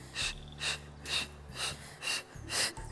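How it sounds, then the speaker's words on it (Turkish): Strong rhythmic breaths during a pilates exercise with a pilates ring, six airy puffs evenly spaced about half a second apart, close to the microphone with no talking. "evet, nefes alıyoruz."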